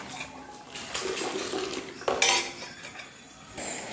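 A brass uruli pot shifted onto a stove: scraping metallic knocks and a sharper clank midway, heard over a steady background hiss in a busy kitchen, with no voices.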